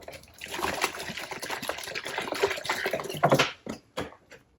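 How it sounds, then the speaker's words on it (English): Clean water rinses a scrubbed, moldy wall, a steady close spray and trickle that runs for about three seconds, then breaks into a few short splashes before stopping. "Then you want to rinse it down with some clean water."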